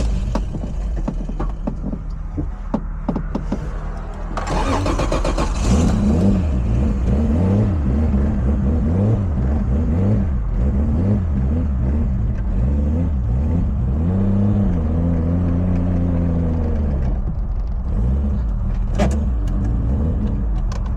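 A Toyota Supra engine with a timing issue starts, then idles and revs in repeated rising and falling swells, loud and close, the pitch wavering unevenly before settling.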